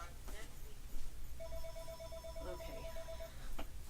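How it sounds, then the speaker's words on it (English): A telephone rings with a sustained electronic bell tone lasting about two seconds during a geometry lesson, heard at moderate distance under a low room hum, with a person briefly speaking. "Sorry, it's the phone."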